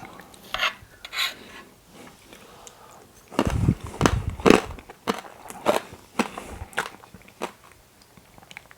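Someone takes a bite of snow eggs, a meringue dessert with crunchy caramel and almonds, giving close, crisp crunching and chewing that comes in irregular bursts and is loudest in the middle, with no talking.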